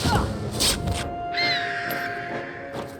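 A short hooting bird call rises and falls amid rustling, flapping noises and brief bursts of commotion.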